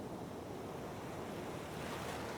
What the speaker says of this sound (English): the ocean surging through the opening